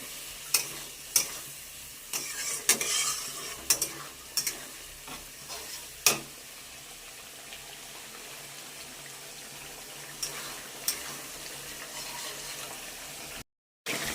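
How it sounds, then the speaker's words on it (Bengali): Spice paste (masala) frying in a pan with a little water added, giving a low steady sizzle broken by several sharp clinks and scrapes of stirring spread through the clip. "মশলাটা যাতে ভালোভাবে ভাজা যায় তার জন্য সামান্য পরিমাণে একটু জল দিয়ে দেবো"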